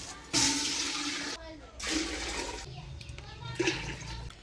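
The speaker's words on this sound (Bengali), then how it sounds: "ভাতের জলটা দিয়ে দিই।" Water pours steadily into a cooking pot for boiling rice, a continuous rushing splash that breaks off briefly and resumes, with people talking over it nearby.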